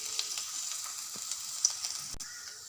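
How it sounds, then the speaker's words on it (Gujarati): Cumin, ginger and chillies sizzle in oil in a pan for ragda patties, a faint, steady crackling hiss with a few small pops and one brief knock of a utensil near the end. "એમાં થોડું તેલ લઈશું, થોડું જીરું નાખીશું, કટ કરેલું આદું નાખીશું, કટ કરેલા મરચાં નાખીશું"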